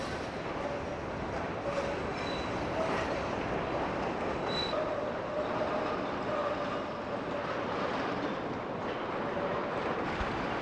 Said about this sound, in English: Single operator takes 8 cars of an Orange Line train through Tower 18